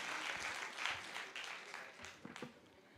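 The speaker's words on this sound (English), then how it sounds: "Please give her a big round of applause." An audience at an ophthalmology conference gives a round of applause, a moderately faint, steady patter of many hands with a few sharper claps near the end.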